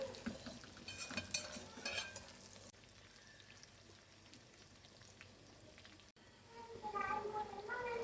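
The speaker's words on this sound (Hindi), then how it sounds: "हरी मिर्ची डालूंगी और हरी मिर्ची के साथ इसे 5 मिनट तक भूनूंगी" Raw green mango and green chillies frying in a pan for pickle, a soft crackling sizzle with stirring and scraping, louder at the start and the end, with a quieter stretch between.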